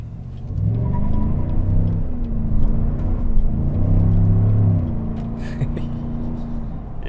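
A 2021 GMC Sierra 1500 Denali pickup in two-wheel drive accelerates around a corner at night, its engine a steady, close, low rumbling drone that rises and falls slightly, with a few faint clicks near the end.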